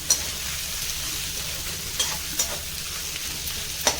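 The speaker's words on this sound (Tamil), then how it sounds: "இப்போ இது அனல் கம்மியாக போட்டு வதக்கிக்கலாம்." Onions sauté gently on a low flame for brinjal pulao, giving a soft, even sizzle close by with a few light stirring clicks and taps.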